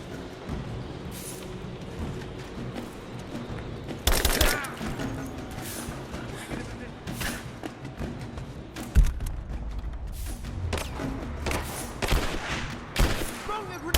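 Gunfire and explosions from the game Rise of the Tomb Raider, with loud bursts of shots and booming blasts at irregular moments over a steady low battle rumble.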